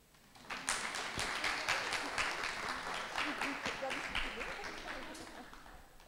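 Sustained applause from a lecture-hall audience for the presenters of a talk on dengue on Réunion, dense and steady for several seconds before thinning out toward the end.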